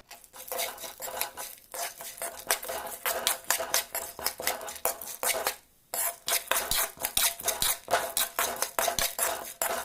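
Chana dal roasts in ghee in a metal pot while a spoon stirs and scrapes it, producing rapid, repeated clanks and scrapes in bursts, with one short pause midway and no talk.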